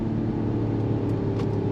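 A 2025 Mercedes-AMG E53 performance sedan drones loudly at high revs near redline, the engine note holding steady in a continuous cabin roar with no talk.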